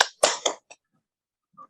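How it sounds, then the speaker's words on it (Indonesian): A classroom of students clapping hands together, a few sharp bursts of claps that fade quickly into silence, then a faint small sound at the end. "Tepuk tangan untuk kita semua."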